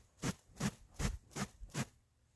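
Common raven wing feathers, dark, shiny and slick, rustling in flight: five evenly spaced whooshing wingbeats, close and fairly faint, each a soft breathy swish, with quiet between them and no talking.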